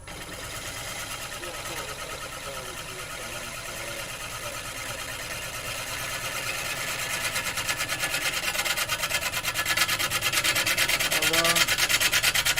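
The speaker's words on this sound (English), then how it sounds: "I'm just sort of brushing the gouge across the surface now" A wood gouge brushes across a mallee burr on a lathe, a continuous rasping, whirring scrape that slowly grows louder, while someone speaks briefly.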